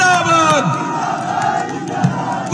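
A crowd at a political rally chants a leader's name in unison, a loud collective shout of many voices near and dense, followed by a noisy rumble of the crowd.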